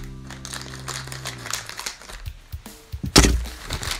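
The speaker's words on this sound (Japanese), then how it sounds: "密着されてるんでハサミで開けましょうね。" Scissors cut open a tightly sealed vinyl bag holding a green capsule-toy miniature cord reel. Crisp plastic crinkling and rustling build to one sharp, loud snap-like cut near the end.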